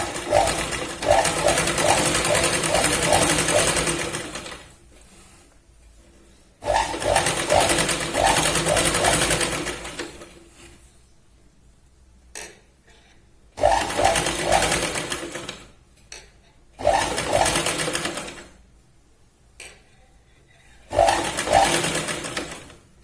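A sewing machine runs in repeated bursts of a few seconds each while double-stitching a seam up to the shoulder of a Punjabi dress, a fast rhythmic clatter stopping between runs, with brief quiet gaps.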